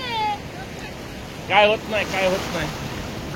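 Sea waves wash and splash at a beach on the Konkan coast at Diveagar, with bursts of surging water and wind noise on the microphone while people talk and call out nearby.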